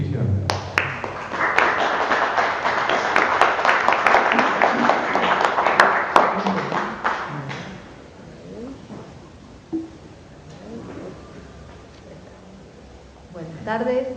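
Applause from an audience at a poetry-and-law panel event rises for several seconds of dense clapping, then fades to scattered claps and room noise.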